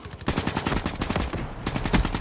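AR-K7 assault rifle in a multiplayer video game firing in rapid sustained bursts, a dense stream of close, loud shots with a short pause before the fire resumes.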